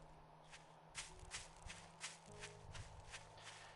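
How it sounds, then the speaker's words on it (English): Player footsteps in the survival video game 7 Days to Die, a quiet series of evenly spaced crunching steps through grass, about eight of them in a steady walking rhythm. "my footsteps are fucking so much more louder than the chicken"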